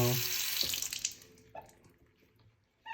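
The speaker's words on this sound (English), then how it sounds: "The water pressure's been pretty weak. It's like this weird kind of trickle." Water runs from a bathroom faucet with weak pressure, a hissing flow for about a second before it cuts off, followed by faint handling noise and a short burst of running water at the end.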